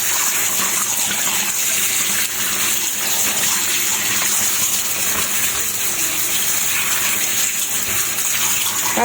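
Running water gushes steadily as chicken innards are washed, a continuous close splashing flow like a filling tub, with no pauses throughout.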